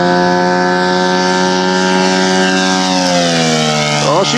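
An RC F4U Corsair scale model airplane flies at full throttle, a loud sustained buzzing engine whine whose pitch slowly drops as it passes and pulls away.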